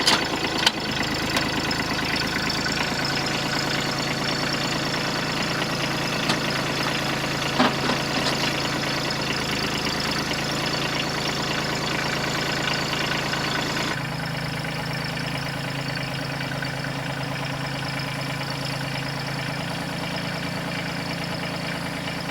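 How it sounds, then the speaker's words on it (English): A tractor engine idles steadily and close by for the whole stretch, a continuous low mechanical drone that shifts slightly in tone partway through, with no talking. "I'm going to start the tractor"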